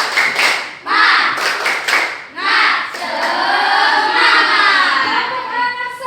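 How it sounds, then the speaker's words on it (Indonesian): Children performing the rhythmic 'tepuk semangat' clap in a classroom, bursts of group clapping in patterned beats mixed with chanting voices. "Anak-anak tepuk semangat dulu ya."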